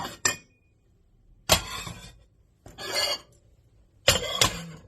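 Glass dinner plates, one pink, knocked together as they are handled: four separate bright clinks and clatters spaced about a second apart, close and fairly loud, with near silence between them.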